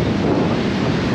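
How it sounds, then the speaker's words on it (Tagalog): Strong beach wind buffets the microphone at Blue Lagoon / Hannah Beach in Pagudpod, Ilocos Norte, producing a loud, continuous roaring rumble with no letup and no voices. "Sobrang hangin. Kita nyo naman"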